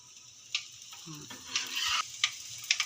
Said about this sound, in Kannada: ಎಣ್ಣೆ ಬಿಸಿಯಾಗಿದೆ ಫ್ರೆಂಡ್ಸ್ ಸಾಸಿವೆ ಹಾಕ್ತಾ ಇದ್ದೀನಿ